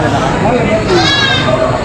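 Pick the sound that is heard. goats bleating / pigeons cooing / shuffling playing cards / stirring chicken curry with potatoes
goats bleating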